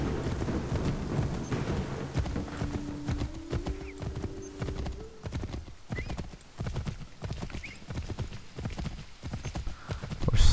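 Horse hooves clip-clop steadily in the video game Assassin's Creed 3, a regular trotting rhythm throughout, with a brief neigh and ambient weather rumble beneath.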